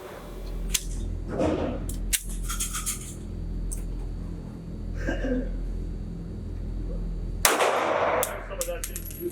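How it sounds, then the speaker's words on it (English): A Sig Sauer P365XL pistol fires a string of rounds at a head target 12 yards away on a shooting range, producing a series of sharp, loud reports with irregular spacing and short gaps between them. "I'm going to go for the head at 12 yards, 10 rounds, see how I do."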